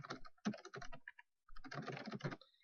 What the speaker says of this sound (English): I can type notes.